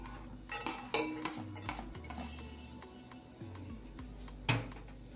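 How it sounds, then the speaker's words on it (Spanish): Chopped garlic frying in oil in a saucepan, a soft low sizzle beneath frequent metal utensil scrapes and clinks against the pot, fairly quiet and close. "En una cacerola vamos a poner aceite, el necesario, porque vamos a freír un ajo picado entero"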